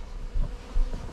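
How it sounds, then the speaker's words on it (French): A honeybee swarm hums in an attic under the roof, a close, steady buzzing drone that swells briefly twice during the short burst. "Le but là c'est de faire tomber l'ensemble de l'essaim"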